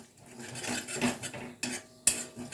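A utensil scraping and clinking against a pan while stirring fennel seeds into hot oil for a vegetarian pointed gourd dish, faint and close, with a few sharp metallic knocks and no talk.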